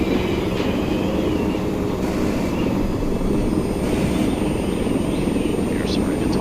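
A helicopter flying in the video game Arma 3, a smaller, maneuverable model, gives a steady, loud rotor and engine drone that stays constant throughout with no talk over it.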